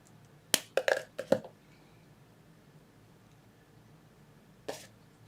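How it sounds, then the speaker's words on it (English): Wire cutters snip through jewelry wire while wrapping a stone pendant, giving a quick burst of several sharp, close clicks, then a single snap a few seconds later after a quiet pause. "I'll just snip it."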